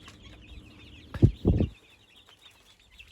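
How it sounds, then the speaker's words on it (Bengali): Young chickens about fifty days old on a small farm, giving a few close, short clucks in a quick burst amid quiet background. "আমার মুরগির বয়স হচ্ছে 1 মাস 20 দিন।"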